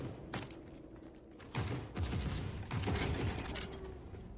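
A device is set onto a door in The Forever Winter video game: a cluster of mechanical clicks, ratcheting and clunks at close range, with a couple of heavier thumps and a faint rising electronic tone at the end.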